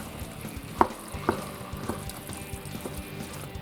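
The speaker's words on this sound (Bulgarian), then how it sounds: "Трябва да се разбърка добре" Stirring a filling of bulgur, rice, chopped lamb offal and plums in a pan, with a few sharp scrapes of the spoon over a soft continuous sizzle and a faint watery background.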